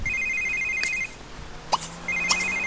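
A phone rings in The Sims 3, a bright electronic trill repeating in short bursts with gaps between, close and clear, with faint game chimes and no talk.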